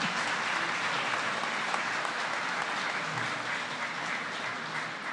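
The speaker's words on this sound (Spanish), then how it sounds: "Aplausos para el Tribunal Constitucional." Audience applause for the Constitutional Court at the opening ceremony of the judicial year, a dense, even wash of clapping that holds steady throughout.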